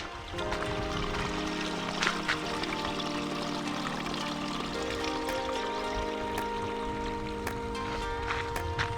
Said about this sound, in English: There's a little water stream going down here as well. You can actually hear the water here.